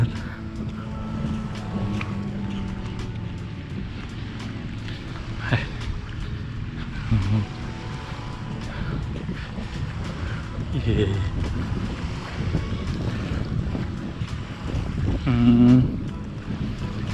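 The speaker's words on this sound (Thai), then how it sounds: "ลมพัดเย็นแบบลมพัดแรงมากเลยตอนนี้" Strong wind buffets the microphone with a constant low roar and gusty rumbling, mixed with distant surf-like noise, on Pattaya Beach, Koh Lipe, Thailand, in the evening.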